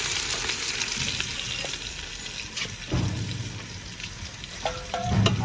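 Ginger garlic paste hits browned onions and fenugreek in a hot pan for aloo gobi. A close, loud sizzle crackles throughout, with a few clanks and scrapes of stirring.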